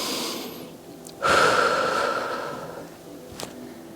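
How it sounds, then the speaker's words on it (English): Deep breathing during a floor stretch for front splits, with a strong inhale-exhale swell through the middle of the clip and softer breaths around it, close and alone. "Taking nice deep breaths."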